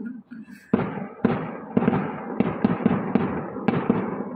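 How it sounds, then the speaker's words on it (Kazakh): Festive fireworks salute bursting during a holiday celebration near a park: a rapid run of about eight deep booming bangs, each fading into the next, with faint voices underneath. "Салют."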